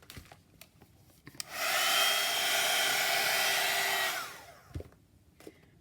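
A hair dryer blows on painted art journal pages, a steady loud whooshing whine that starts abruptly, runs about three seconds and cuts off, with faint handling taps before and after.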